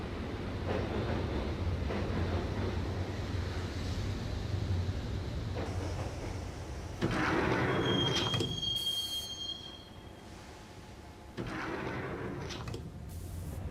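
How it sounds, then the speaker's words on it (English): A train ride in the video game Max Payne: a continuous rumbling rail roar with squealing wheels and a sliding door, the noise dipping and surging as the carriage rolls along, with no talk. "the train doors had already shut behind me, and I was in for the ride"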